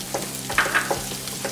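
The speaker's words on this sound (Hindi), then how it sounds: "प्याज को हम 1 मिनट के लिए फ्राई कर लेंगे।" Onions with ginger and slit green chilies hiss in a pan, a short, moderate sizzle broken by a few stirring scrapes and spatters, with no voices heard.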